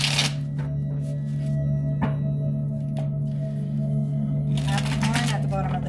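A deck of cards gets shuffled, with quick papery riffling bursts at the start and again near the end over a steady low hum, no speech.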